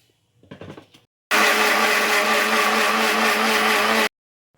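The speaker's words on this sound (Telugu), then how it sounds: "మిక్సీ చేసుకొని" Kitchen mixer grinder blending ginger, garlic and tomatoes, a brief rattle then a loud steady motor whir for about three seconds that stops abruptly.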